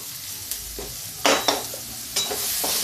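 Onion, green chili and ginger frying slowly in a little oil, a continuous close sizzle with several sharp scrapes of a spoon stirring the pan.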